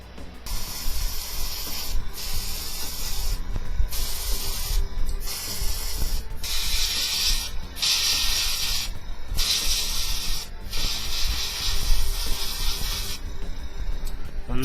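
Spray paint hisses in repeated bursts onto a Tamiya 1/48 Corsair model kit, each steady jet lasting a second or two and separated by brief pauses, close and loud with no talking.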